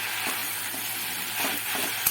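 Wilted water spinach greens sizzle softly in a pan with a low, even frying hiss and faint stirring, a short steady stretch ending in a small clink.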